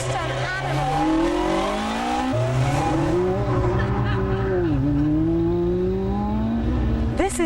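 A Tiger Z100 WR four-wheel-drive car with twin 1200cc engines making 360 brake horsepower drives hard, its engine note rising and falling loudly and continuously as it revs and shifts, with some tire noise.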